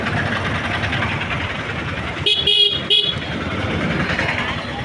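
Busy town street traffic in Adoni with autos and motorcycles, a constant engine hum and road noise broken by two sharp honks in quick succession midway, close, with a person talking over it.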